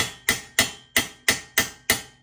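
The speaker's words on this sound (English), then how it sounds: "We're gonna be using an old C-post and a regular household hammer to pound this out." A household hammer pounds on an old BMX C-post, striking seven sharp metallic blows at a fairly steady rhythm, each ringing briefly before the next, loud and close with no talking.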